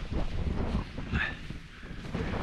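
Gusty wind buffets an exposed hilltop campsite in the Cheviots during stormy weather, a low, uneven rumbling roar that swells and eases in waves across the clip.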